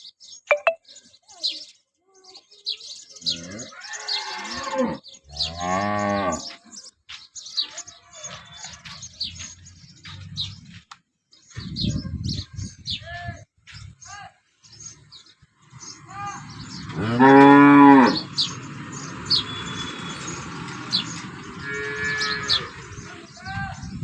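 Several cows moo at varying distances, some long and loud, others shorter, with birds chirping in the background between calls.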